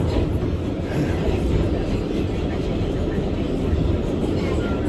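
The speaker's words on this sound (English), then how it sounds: "this subway train is very safe. This is called the 7 train." A New York City subway 7 train in motion, with a loud, continuous low rumble and rattle of the car filling the whole stretch, steady and close.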